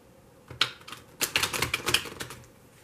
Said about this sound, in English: I'm going to start shuffling this deck.